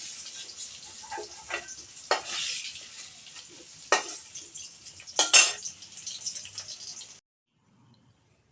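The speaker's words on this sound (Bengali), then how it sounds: "একটু নাড়াচাড়া করে নেব এবার আমি আলুগুলো একটা পাত্রে নামিয়ে নেব" Fried potatoes are stirred in hot oil and scooped into a bowl, a soft sizzle broken by several sharp scrapes and clinks of the utensil against the pan before the sound stops abruptly near the end.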